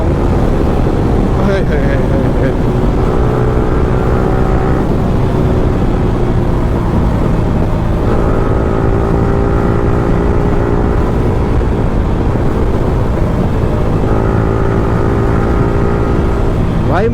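A modified Yamaha R15 M motorcycle with a loud aftermarket exhaust is ridden over a rough road, its engine note holding a steady, close drone that swells and dips with throttle changes throughout.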